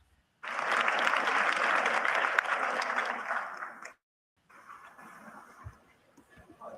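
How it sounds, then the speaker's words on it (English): Audience applause rises suddenly, holds steady for about three seconds of dense clapping, then cuts off and returns as a thinner, quieter smattering of claps. "That was not a large applause."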